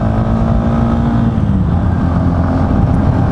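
A Yamaha XT250 250cc motorcycle climbs a hill in traffic, its engine droning loud and constant from up close, with the pitch rising and then holding steady under the strain.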